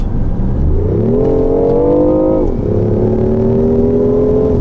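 BMW i8 hybrid sports car with a 1.5-litre three-cylinder engine and electric motor, accelerating hard on a Paris rally, the engine note climbing steadily, dipping at a shift, then pulling up again, loud and close.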